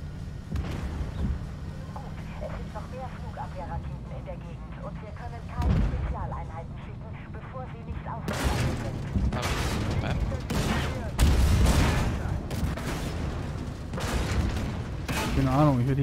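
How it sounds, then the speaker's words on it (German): Gunfire striking a T-80 tank in the video game Armored Warfare, with repeated loud booming impacts and bursts of fire during a harbor-capture match, and someone talking over the shooting. "ich werde hier die ganze Zeit beschossen"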